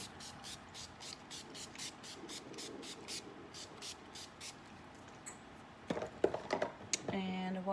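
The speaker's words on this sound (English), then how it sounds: "I'm just gonna spritz myself down with some setting spray." A rapid run of short hissing spritzes from a makeup setting spray bottle, about a dozen in quick rhythm, then some clattering handling noises nearby.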